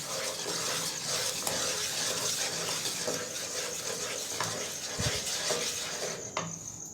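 A spoon stirs melted jaggery and sugar in a pan while making til chikki: continuous scraping and sticky stirring with a soft sizzle and occasional clicks of the spoon against the metal pan.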